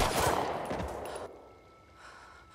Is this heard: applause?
no